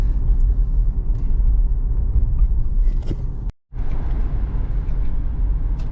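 A Ford 5.0 Foxbody Mustang in sport mode gives a deep, loud rumble under acceleration, cutting out briefly for a moment before the roar resumes.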